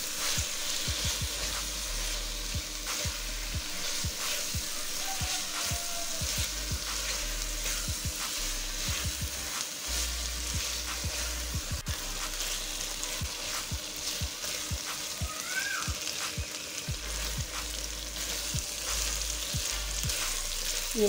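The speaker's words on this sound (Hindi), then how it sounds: "ये मसाला हमारा अच्छी तरह भून रहा है" Spices such as cumin powder, chili and salt frying in oil for a dhaba-style egg curry, a steady, close sizzle with crackling pops and intermittent stirring scrapes running throughout, no voices.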